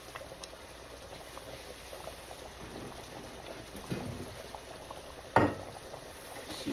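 Cube steaks simmer in their own juices and oil with a soft, continuous bubbling. One sharper pop or clatter stands out near the end, and no voices are heard.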